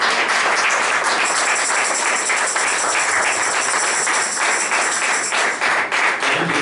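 A church congregation applauding, dense sustained clapping from many people filling the room, loud and steady throughout.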